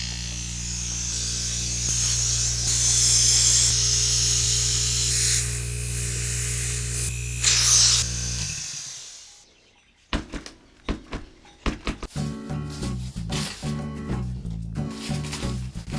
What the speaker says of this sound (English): I'm going to use this state-of-the-art equipment here. This is crazy, okay? It's a compressor.